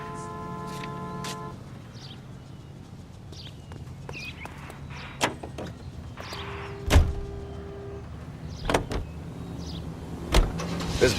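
A 1940s car cruising through Los Angeles in the game L.A. Noire, a low engine hum under occasional thumps and bumps, with faint horse clip-clops and street sounds nearby.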